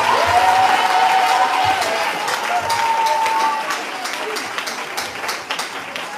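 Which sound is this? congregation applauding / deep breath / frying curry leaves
congregation applauding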